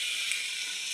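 Cauliflower frying in a pan, a steady bright sizzle that stays constant through the short moment with no talking.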